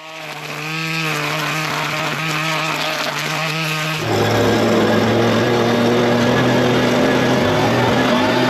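A string trimmer cuts through overgrown weeds with a loud, buzzing motor whine that holds steady, then jumps to a harsher, higher-revving note partway through as it bites into thicker growth; no talking.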